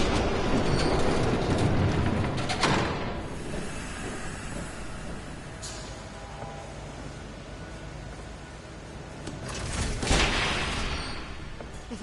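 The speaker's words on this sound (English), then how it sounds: "There's a train coming. Take cover." A train rumbles past in a Batman game episode, a broad steady roar with hiss and rail clatter that builds, eases, then swells again near the end, with no voices.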